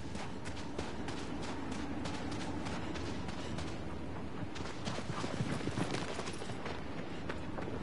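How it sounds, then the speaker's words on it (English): A horse gallops in the video game Shadow of the Colossus, its steady hoof clip-clop fairly faint under a broad wash of ambient game noise, with no voices. "There's my horse."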